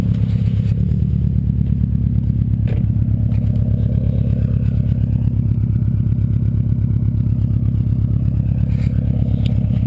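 A 2002 Subaru WRX wagon's engine idles steadily with a low, even, pulsing rumble and a light mechanical clatter, with no voices.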